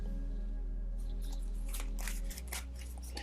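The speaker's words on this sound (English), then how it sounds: "I want to pull out 2 more cards just to clarify." Tarot cards are drawn from a deck with quick papery slides and snaps. A few crisp card flicks and rustles sit close and distinct over a low steady hum, with no talk.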